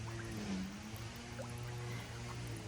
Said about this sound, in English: there's all these air bubbles coming up because all that water is infiltrating in and pushing out all the air